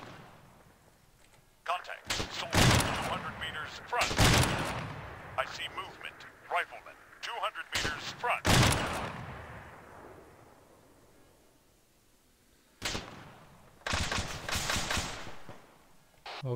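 Gunfire in the video game ARMA 3 during a co-op assault on a base, several separate loud bursts of rifle and machine-gun fire with quiet gaps between them, one voice speaking German in the pauses.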